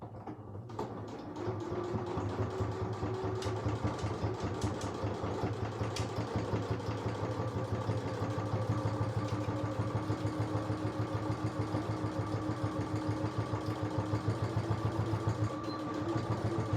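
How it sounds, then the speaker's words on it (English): A sewing machine stitches the top seam of a coin purse, running as a steady, close, rapid mechanical hum and patter that holds evenly throughout, with no talking. "you're going to sew the top seam down here again, the same as this one"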